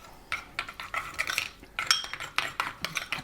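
A spoon stirs chopped dill into a Greek-style lemon potato dish, making a run of close, quick metallic scrapes and clinks against the pan in an uneven rhythm, with no voices.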